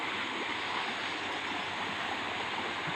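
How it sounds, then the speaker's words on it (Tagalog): Creek water flowing steadily in a rural province, a constant broadband rushing wash heard up close with no breaks. "Ganito na pala ang kalagayan ng sapa."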